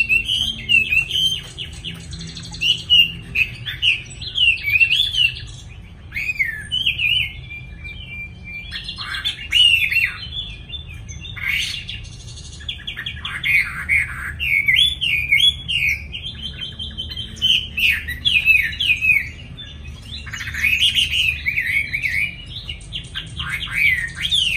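Small birds, newly arrived and being looked after, chirp and warble in quick, repeated bursts close by, with short pauses between phrases over a low background hum.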